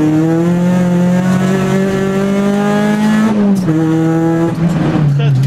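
A tuned Peugeot 206 RC race car engine revs loud and close from inside, holding a steady high drone, dipping as it shifts gear, then climbing again with a raspy, sonorous tone.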